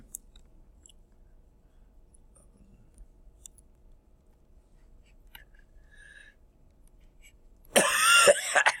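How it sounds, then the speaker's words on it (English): A person coughs in a short, loud, harsh burst of several rapid coughs near the microphone, following a long stretch of near silence with faint scattered clicks. "why am I coughing so?"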